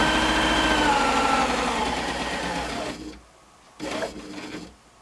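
Necchi Artisan 30 S sewing machine running at full speed, a loud steady mechanical whirr that cuts off, then a short second burst before stopping.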